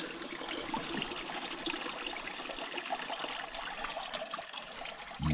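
Muddy water trickles and splashes steadily through a gold trommel while sampling rich ground, a continuous close wash with a brief louder knock near the end.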